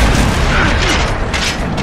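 Heavy mortar fire in the Gears of War game, a continuous loud barrage of booming blasts and mechanical rumble with a faint voice underneath.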